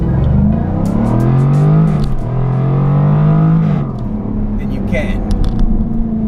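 An electric all-wheel-drive performance car with 423 kilowatts launches hard from a standstill, a loud rising whine sweeping upward twice in quick pulls before easing off, close and dominant.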